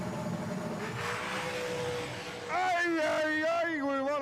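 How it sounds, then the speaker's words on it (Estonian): A high-revving 5-litre V8 race car engine, heard as a steady droning note that then jumps into a louder, sharper rising and falling howl as the revs climb and vary, with some background voice underneath. "siis see auto teeb jumala ägedat häält."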